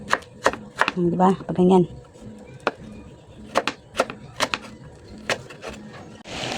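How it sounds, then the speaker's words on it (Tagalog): A knife chops garlic and ginger on a board for drying, sharp irregular taps near and clear, with a short spoken remark early on. "Hiwain ko muna ha"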